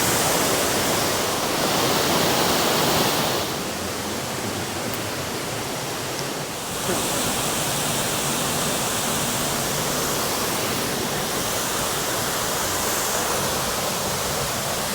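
Russell Falls, a waterfall at Mount Field in Tasmania, pours with a steady broadband rush of falling water, loud and continuous throughout with a brief slight dip partway, no voices.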